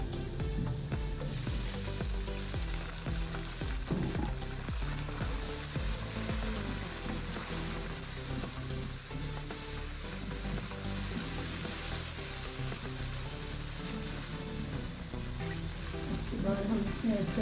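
Garlic-ginger paste sizzles in a pan of light-browned onions while red bean rajma is being cooked; a loud, steady frying hiss with crackles and occasional stirring runs throughout.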